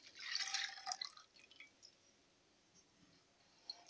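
Whole milk poured into a cold pot over grated chocolate makes a short, bright splashing trickle up close, fading after about a second into near silence with a faint click at the end.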